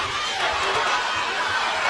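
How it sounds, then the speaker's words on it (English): A boxing match crowd reacts to a straight right hand, a dense, loud roar of cheering and chatter that holds steady, with commentary mixed in. "That brings the crowd alive here"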